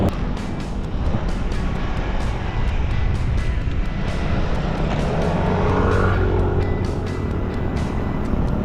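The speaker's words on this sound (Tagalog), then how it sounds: "Habang sinasalubong kami ng malakas na hangin." Strong headwind roars steadily past a rider on a motorbike ride around Mindoro, a loud continuous rush mixed with road and engine noise and no speech.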